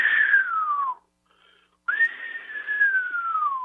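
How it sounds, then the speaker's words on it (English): A person whistles two long descending notes, each sliding smoothly downward in pitch, separated by a short pause, close and clear with no other sound. "I was looking for a number, not a whistle."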